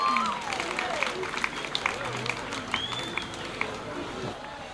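An audience claps for a dance team at a choreography show in Mayotte, fairly light scattered applause with cheers and shouts, while a voice talks over it.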